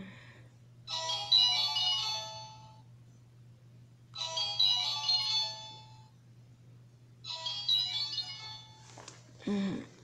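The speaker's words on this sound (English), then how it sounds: "It's my phone." A mobile phone ringtone plays three evenly spaced melodic bursts with short pauses between them over a low, constant hum, followed by a brief knock or clatter at the very end.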